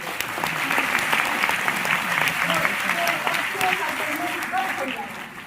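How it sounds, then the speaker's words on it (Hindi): Audience applause for volunteers at a university science faculty orientation programme at BHU, a dense steady wash of many hands clapping that holds strong for about five seconds, then begins to taper at the end. "इनके लिए आपने तालियां बजा के सच में बहुत बड़ा काम किया है"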